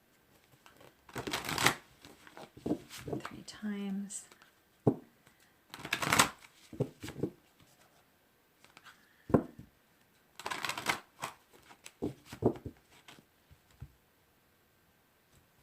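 Tarot cards are shuffled by hand in several rustling, flicking bursts with short pauses between them, quiet and close, with a faint voice briefly in between.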